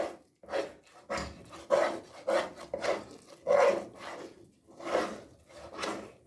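A spoon stirring egg halwa in a pan, heard as repeated scraping and rubbing strokes against the pan bottom, close and fairly loud, in an uneven rhythm of about ten passes.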